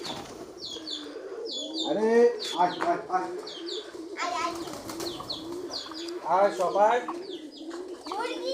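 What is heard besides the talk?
pigeons cooing at village house feeding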